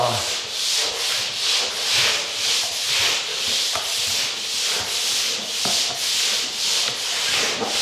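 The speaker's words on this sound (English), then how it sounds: "after I sand and detail this out" Drywall finish being sanded by hand, a loud, steady rhythmic rubbing with regular back-and-forth strokes close up and no voices.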